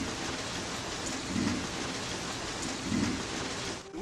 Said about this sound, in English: The weird thing with the rain